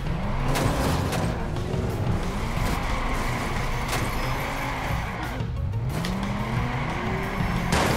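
A pickup truck in the video game Watch Dogs revs hard and races off, its engine roaring steadily with repeated rising gear whines and tire squeals, loud and continuous with no talking.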